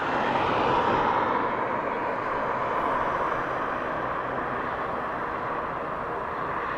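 An Airbus A320 in old Irish rugby team livery passes at Dublin Airport, its jet engines a broad, steady roar at a constant level throughout, fairly loud with no talk.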